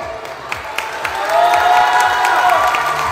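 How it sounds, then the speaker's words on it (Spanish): A crowd at a kindergarten community event gives an ovation, with scattered claps building into loud, sustained applause and cheering, children's voices rising among it. "Claro que esa no es aplauso, es ovación, se la ha ganado, de verdad."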